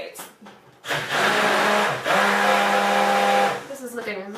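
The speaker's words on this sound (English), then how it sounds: "keep the head of the stick blender straight down on the bottom of the pan" A stick blender whirs loudly and steadily as it mixes peppermint soap in a pan. It cuts off briefly, then starts again, and someone talks faintly before and after the motor runs.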